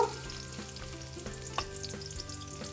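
Chopped onions sizzle and fry in a pan for Korean ramen, a faint steady crackle with occasional soft stirring clicks throughout.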